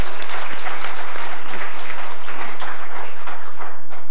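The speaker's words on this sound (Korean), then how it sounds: "박수 한번 하십시다" A church congregation applauds at an ordination ceremony, loud, dense, sustained clapping for about four seconds with no talk over it.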